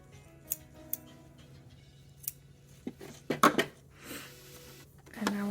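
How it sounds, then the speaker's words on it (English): Scissors snip through elastic at a sewn seam of a string-back garment, giving a few sharp, close clicks and crisp cuts spaced irregularly over several seconds in a quiet room, with no talk. "I'm just going to trim some of this elastic down so it's not so thick."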